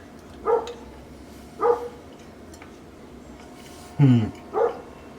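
A dog barks four times outside a kitchen, short spaced yaps at moderate distance over a steady low room hum, with no talking.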